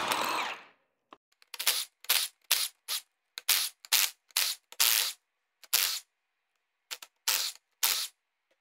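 A power tool rattles in a series of short bursts while removing the ring gear bolts from a Ford 8.8 differential, with about a dozen loud, close bursts separated by brief silences.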